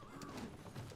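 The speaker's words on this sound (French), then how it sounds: "Ah, mon cheval. Tranquille. Tranquille." Galloping horse in the video game Elden Ring, a dense, steady rumble of hoofbeats with faint whinny-like tones running through the whole second.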